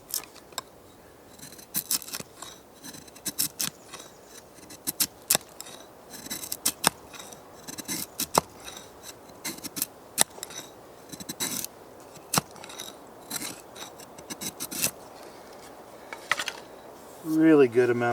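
Knife shaving curls of resin-rich wood to make campfire kindling outdoors on wet ground, a run of short sharp scraping strokes repeating close up at an uneven rhythm, fairly quiet, with a brief louder handling noise at the end.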